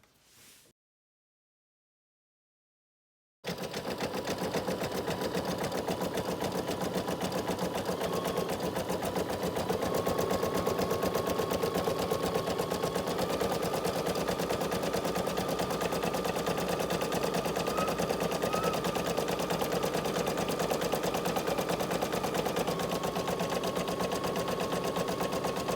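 An embroidery machine stitching a heat-transfer vinyl appliqué starts after a short silence, then runs continuously with a rapid, even mechanical chatter of needle strokes, close and steady to the end.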